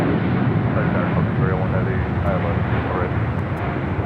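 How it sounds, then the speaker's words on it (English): An American Airlines jet takes off from runway 25 right at LAX, a broad, steady roar of jet engines rumbling at a moderate distance for the whole stretch, with faint voices mixed in. "American Airlines taking off 25 right on the south side."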